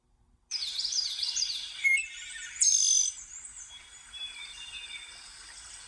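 A bird sings a series of high, sliding whistled notes after a moment of silence, the song rising and falling, then fading softer.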